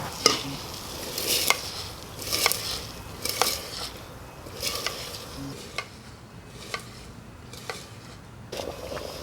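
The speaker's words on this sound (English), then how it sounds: "So to that, I'm going to add in the rice that we rinsed up here." Rinsed jasmine rice being poured and stirred into a pot of boiling water, giving a bubbling, sizzling hiss broken by a few sharp scraping stirs at regular intervals, close and moderately loud.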